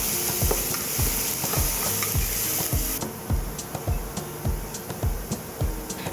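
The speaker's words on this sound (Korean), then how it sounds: "잘 달궈진 팬에 먼저 다진 마늘을 넣어서 볶아주고" Minced garlic stir-fries in a well-heated pan for char kuey teow, a steady close sizzle under rhythmic spatula scrapes, about two per second, with the sizzle easing partway through.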